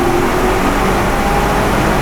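A BMW Alpina XB7 cruises in fourth gear at about 2,000 RPM through a tunnel, giving a steady, loud, enclosed rumbling drone with no voices over it.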